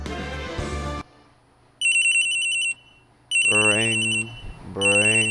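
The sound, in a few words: telephone ringing in Phoenix Wright Ace Attorney video game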